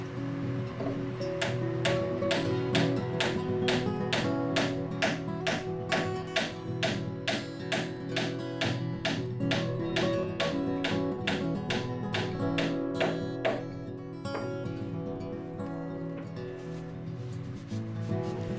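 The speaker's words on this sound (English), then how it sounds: "I can place it into the hole and begin hammering it in." A glued wooden dowel being hammered into a drilled hole, about thirty sharp, evenly spaced taps in a steady rhythm, close and clear, easing off near the end.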